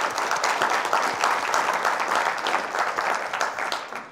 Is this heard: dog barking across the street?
no